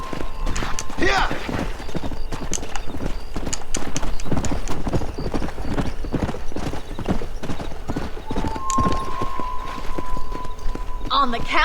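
A horse's hooves clip-clop in a quick, steady rhythm while riding in the Xbox video game Red Dead Redemption, with a neigh near the start and voices talking over the hoofbeats.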